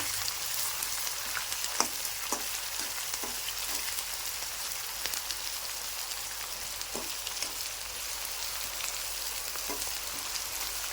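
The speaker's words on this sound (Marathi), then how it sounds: "त्याच्यात मी तीन कांदे मोठे मोठे कापलेले आहेत ते पण टाकू त्याच्यामध्ये त्यालाही चांगलं फ्राय करू" Three large chopped onions fry in a pan for a spiced crumbled leftover-chapati dish, giving a steady, even sizzle throughout with occasional soft stirring clicks and no voices.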